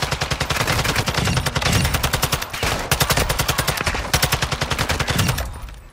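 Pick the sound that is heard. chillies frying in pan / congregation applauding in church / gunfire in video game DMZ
gunfire in video game DMZ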